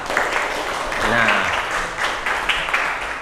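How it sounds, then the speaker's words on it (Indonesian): Students in a classroom clap for a classmate named Rafli, a brief burst of scattered applause with voices talking over it. "Tepuk tangan dulu buat Rafli."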